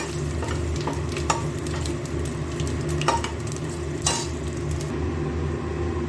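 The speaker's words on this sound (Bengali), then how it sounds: "ডালটা দিয়ে একটু ভাজা ভাজা করে নেব" Washed biuli dal (black gram) frying with fennel seeds in a pan makes a steady sizzle under repeated scraping stirs and a few crisp utensil knocks, heard close up with no voices.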